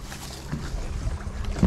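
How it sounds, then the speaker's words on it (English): A boat hull scrapes and grinds along a creek bank, with a dense, rough low rumble that runs throughout and swells louder near the end. No one speaks. "when you hear that screeching going down the side of the boat"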